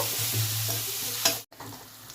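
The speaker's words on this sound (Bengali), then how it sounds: "রসুনটা ভাজা ভাজা হতে হতে এর মধ্যে দিয়ে দেবো কাঁচা লঙ্কা কুচিগুলো।" Garlic paste and chopped green chillies for veg Manchurian frying in a pan, a close, steady sizzle with a brief stirring scrape and a short dropout near the end.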